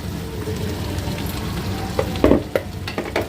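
Green chillies frying with softened tomatoes in a pan for Andhra-style tomato and ivy gourd chutney: a steady close sizzle with a few louder stirring scrapes and pops near the end.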